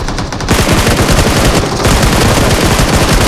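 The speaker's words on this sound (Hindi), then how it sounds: "सामने से होता है फायर।" Rapid automatic gunfire crackles loud and close in a battle royale shooter, a dense unbroken burst of shots with barely any pause.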